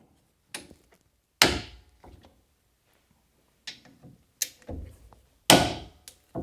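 Wrench work on 12mm brake caliper bolts on a Chevrolet Colorado front brake, heard as sparse, sharp metallic knocks and clunks with brief scraping, several loud close hits separated by quiet gaps.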